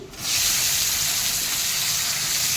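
Asafoetida tempering hits hot oil for a dish of greens, bursting into a loud, steady sizzle that starts abruptly and holds close and constant without pause.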